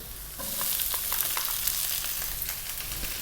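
Garlic and onion sizzle in hot oil flavoured with star anise, stirred steadily so spoon scrapes and crackles rise over a continuous, fairly close frying hiss with no talking.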